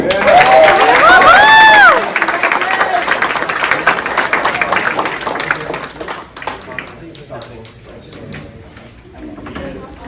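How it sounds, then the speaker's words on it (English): Applause and cheering for the coaches at a high school varsity award night, opening with whoops and shouted voices over clapping, then settling into steadier applause with some talk mixed in. "let's give a round of applause for the coaches"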